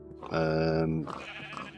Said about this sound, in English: that was a sheep behind me, wasn't it, eating grass?